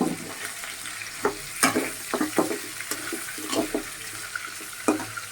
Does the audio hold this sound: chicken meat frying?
yes